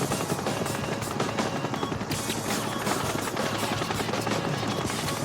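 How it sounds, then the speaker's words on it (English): A police helicopter's steady rotor chop drones continuously overhead, loud and unbroken throughout. "The police helicopter is trying to hold traffic."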